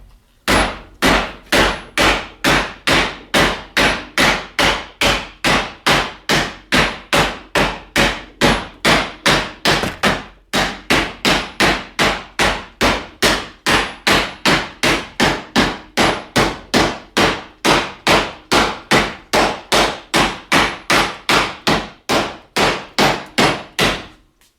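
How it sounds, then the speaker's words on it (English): A small mallet strikes a metal radio mount bracket to bend it, with dozens of sharp ringing blows in a fast, even rhythm and one brief pause partway through. The blows are close and loud. "I'm actually using a small mallet here."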